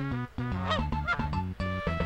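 A cartoon goose honks repeatedly in the Dora the Explorer: Barnyard Buddies PlayStation game from 2003, loud nasal honks in quick succession with short gaps.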